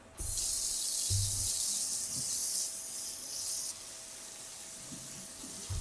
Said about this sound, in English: Now you can run water.